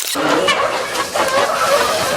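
Native country chickens cluck softly and steadily close by as they peck at food, a short stretch of continuous low clucking.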